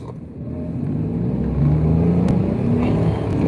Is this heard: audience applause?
no